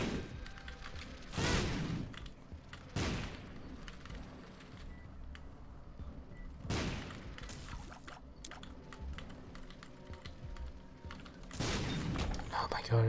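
Bomb blasts in The Binding of Isaac: Rebirth, four sharp, loud explosions spaced irregularly across the stretch, each a brief burst over a steady low game background.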